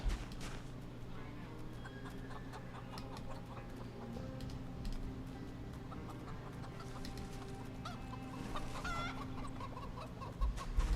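Chickens cluck faintly in Project Zomboid, soft scattered clucks beneath a low steady hum of in-game ambience and light ticking, fairly distant and quiet.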